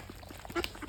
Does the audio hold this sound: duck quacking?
yes